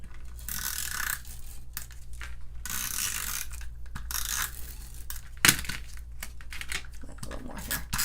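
A Stampin' Up Snail adhesive roller runs tape across paper for mounting onto a white mat, giving a steady close ratcheting, rolling rasp with one sharp click partway through, and no talking.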